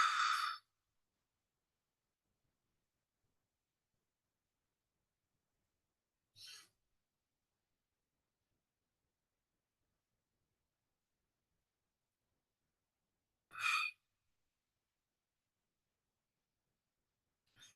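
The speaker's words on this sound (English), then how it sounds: "I breathe a bit through my nose and also through my mouth" Deep breaths drawn through the nose and mouth, four short breathy exhalations spaced several seconds apart over long silence, close but soft, no talking.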